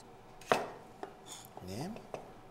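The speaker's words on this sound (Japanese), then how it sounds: "あの早い音を聞いたね、包丁のね" A kitchen knife slices shiitake mushrooms thinly in a few quick, separate chops on a cutting board, fairly soft and close, with a faint clink in between.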